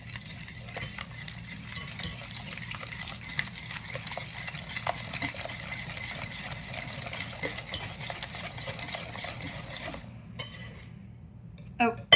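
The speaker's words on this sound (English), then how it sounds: "I'm just gonna start whisking and kind of stabbing as well" Banana bread batter whisked in a bowl, a continuous soft scraping and clinking of the whisk against the bowl, with faint knocks, close and fairly quiet.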